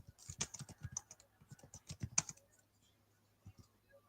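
Quiet, close typing on a computer keyboard, a quick run of soft key clicks that thins out into a few scattered taps toward the end.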